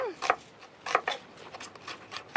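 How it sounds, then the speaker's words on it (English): Half an onion being finely sliced with a knife for a simple tomato salad, heard as a quick run of close, crisp cuts and taps against a board at an uneven rhythm. "So finely slice half an onion."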